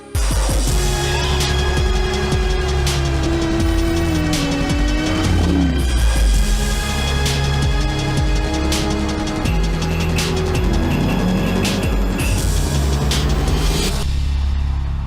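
A 2024 Mercedes-AMG GT Coupe doing donuts on dusty ground, its engine droning loudly and continuously with pitch sweeping up and down as it circles, close and without voices.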